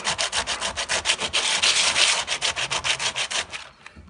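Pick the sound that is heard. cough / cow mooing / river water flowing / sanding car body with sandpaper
sanding car body with sandpaper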